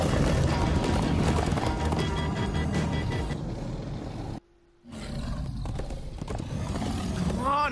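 Horses gallop in a chase scene in the video game Minecraft Story Mode, with dense clattering hoofbeats and roaring under game music and effects, broken by a brief near-silent gap before the loud rush resumes.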